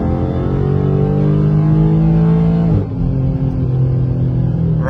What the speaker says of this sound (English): all I'm gonna do, all right, is just mash the gas